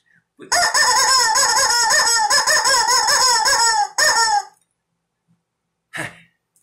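A screaming yellow rubber chicken toy lets out a long, wavering, shrill squawk, then a short second squeal, followed by a brief rustle and silence.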